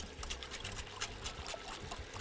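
Hot water trickling gradually into a flour mixture in a kitchen, a faint, continuous pouring dribble over a couple of seconds.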